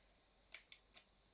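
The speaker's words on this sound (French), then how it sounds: "je vais prendre un ciseau parce que j'ai pas envie de tout déchirer" Scissors snip at a package in a few sharp separate cuts, close and crisp, with silence between strokes.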